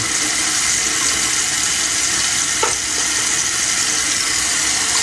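Water rinsing out a metal shaving bowl, a steady hiss of running water throughout with a brief splash near the middle, close and moderately loud, no talking.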